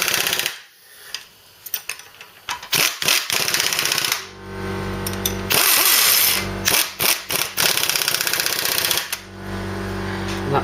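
A spanner works a bolt on a Mk3 Cortina during restoration, giving close metallic clicks and ratcheting taps in uneven bursts over a steady workshop hum, with no talking.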